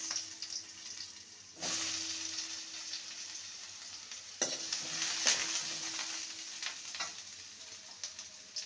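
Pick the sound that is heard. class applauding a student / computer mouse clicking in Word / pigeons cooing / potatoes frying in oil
potatoes frying in oil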